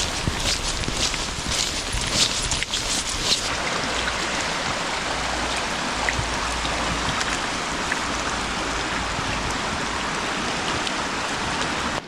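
Rain falls steadily on Vancouver Island during a camping road trip, a broad constant hiss of drops on surfaces with a few sharper patters early on, no talking.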